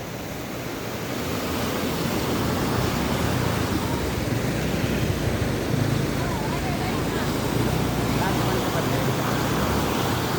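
Floodwater in Mahuva after a heavy downpour roars past in a loud, unbroken broadband rush, steady and close, with a faint voice barely audible beneath the torrent.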